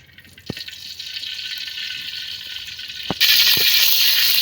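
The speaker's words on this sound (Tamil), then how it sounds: "இப்போ பார்த்தீங்கன்னா எண்ணெய் ஊற்றிக்கலாம்" Cooking oil pours into a pan in a steady, close hiss that grows louder near the end, punctuated by a few light clinks.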